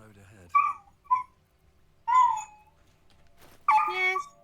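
A dog named Pepper whimpers indoors in short, high, nasal whines. The cries come in four separate bursts with quiet gaps between them, close to the microphone.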